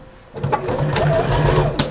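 Sewing machine stitching around the edge of a fabric wall hanging, a close, steady buzzing run of stitches starting after a brief quiet moment.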